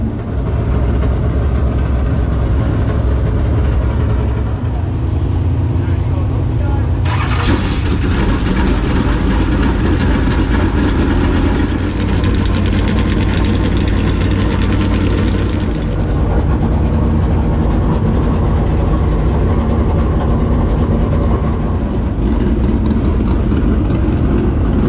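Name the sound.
race car engines, Kubota Tractors car number 10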